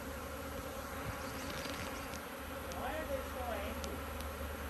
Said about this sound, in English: this is the crazy hive